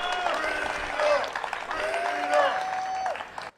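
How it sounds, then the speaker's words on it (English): Crowd applause at an outdoor rally in Albany, New York, steady clapping from many people mixed with cheering voices and whoops, fairly loud and continuous before stopping abruptly. "I think that we should all give her a round of applause"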